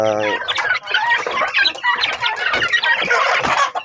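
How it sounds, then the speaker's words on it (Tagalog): Turkeys and young chicks call together close by, a busy stream of clucks, chirps and short gobbling notes with no talking. "yan po mga kapanok yung ating pabo. Ito na po sila."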